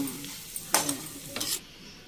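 A tempering for a ground nalleru stem chutney sizzles briefly in a pan, with two short bursts of hissing spatter over a quiet background, close and moderately loud.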